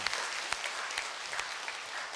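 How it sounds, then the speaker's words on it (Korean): A church congregation applauds the choir during a Sunday service, many hands clapping in an even, continuous patter with a few sharper individual claps standing out. "우리 시온성가대 박수로 격려하며 이루하겠습니다."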